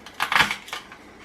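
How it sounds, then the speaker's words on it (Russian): A kitchen knife cuts garlic on a board, a quick cluster of three or four crisp chopping knocks followed by one softer tap, close and fairly quiet. "Сейчас порежу чеснок."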